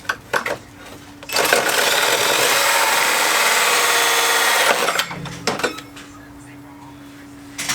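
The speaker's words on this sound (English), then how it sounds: "you can Dremel it to open it up just a hair more and clean it up" Dremel rotary tool grinding a 3-inch car intake pipe for a Nissan 370Z, a loud, steady high whine lasting a few seconds after brief clatter, with faint talk before and after.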